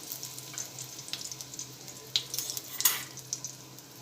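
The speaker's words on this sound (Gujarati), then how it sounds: "તો આપણું જીરું તતડવા લાગ્યું છે. હવે એમાં મેં અહીંયા 5 થી 6 લીમડાના પાન લીધા છે, એ એડ કરીશું." Cumin seeds crackle and sizzle steadily in hot oil, with sharper pops as curry leaves drop into the pan, alone and close by.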